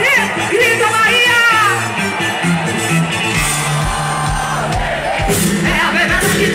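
Huge carnival crowd at the Salvador, Bahia carnival opening concert in Praça Castro Alves, roaring and shouting together over loud pounding axé music, a dense sustained wall of voices filling the open square.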